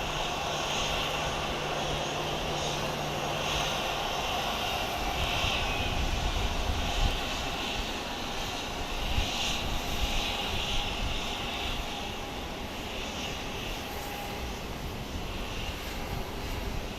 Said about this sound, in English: And there's the plane we all love to hate.